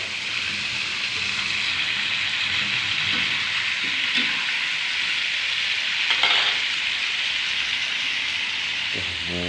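Tomato sambal fries loudly and continuously in a pan, a dense, even sizzle that holds for the whole stretch, with faint scrapes of stirring and no speech.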